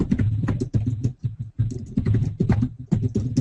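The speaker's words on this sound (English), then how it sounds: "who's typing?" Rapid, irregular keystrokes on a computer keyboard during an online webinar, close and fairly loud, clicking in quick bursts with short pauses between runs.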